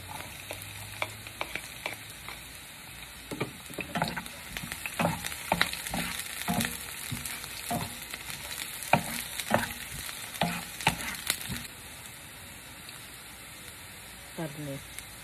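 Garlic sautés in a pan for ginisang monggo, a soft sizzle broken by frequent scraping and stirring clatters, fairly close and moderately quiet, with a voice briefly audible.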